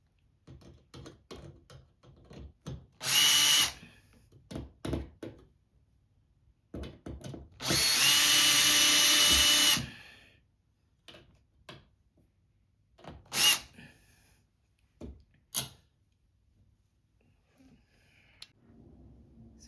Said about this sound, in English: I've finally mounted all the 4 screws into the plate and in the wall